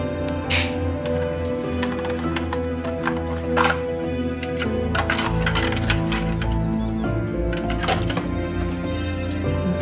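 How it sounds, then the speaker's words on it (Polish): Sharp plastic clicks and snaps over several seconds, scattered and uneven, as the plastic clips of a Mercedes W168 centre armrest and storage compartment are pressed and pushed into place close by. "Słychać taki wyraźny klik, jak wskoczą w swoje miejsca uchwyty."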